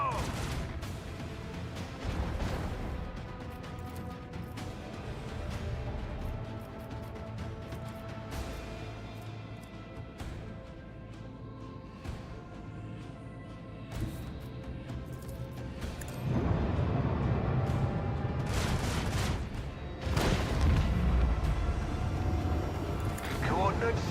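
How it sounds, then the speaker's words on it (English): Macro cannons on a warship in the space game Warhammer 40,000: Rogue Trader fire a salvo of repeated booming blasts over a loud battle din, with voices talking throughout. "Macro cannons, open fire!"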